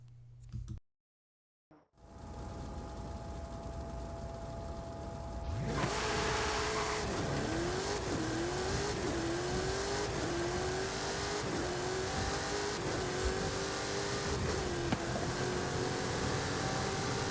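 Game cars, including a Nissan GTR, start up after a brief silence and then drive with steady loud engine roar and rising gear-shift revs that repeat in a sawtooth pattern for about eleven seconds, with no talk.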